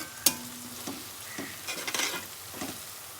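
Garlic ginger paste fries in a pan on low heat, a faint sizzle broken by a sharp clack and light scraping stirs, quiet and close with no voices.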